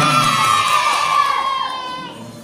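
At an elementary school ceremony, a crowd of children shouts and cheers loudly with a high sustained whoop, fading toward the end.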